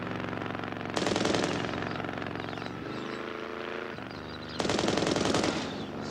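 Bursts of rapid machine gun fire in a dramatic action scene, two loud sustained volleys of fast, evenly spaced shots separated by a quieter stretch of lower rumbling.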